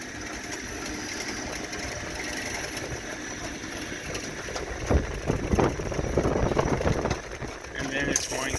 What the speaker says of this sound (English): Your motor is, and here it goes, it's going to dump the corn.